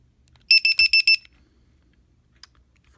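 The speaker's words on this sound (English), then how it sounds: "So I got my Venom battery tester, whatever." A Venom LiPo battery tester checks the cell balance of a 14.8V 3300 mAh four-cell LiPo pack and gives five quick, sharp electronic beeps in a row, close and loud, followed by near silence.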